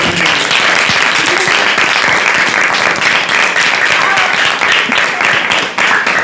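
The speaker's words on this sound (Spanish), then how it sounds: "nos damos un fuerte aplauso" An audience at a school radio and communication workshop gives a loud, sustained round of clapping, a close, continuous patter of many hands that runs on without a break from start to finish.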